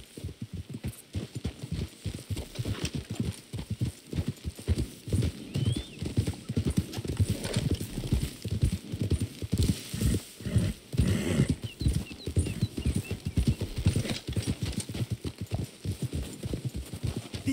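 Horse hooves clip-clop steadily in Red Dead Redemption 2 as riders travel along, with a snort or whinny partway through, loud and close over a low ambient bed.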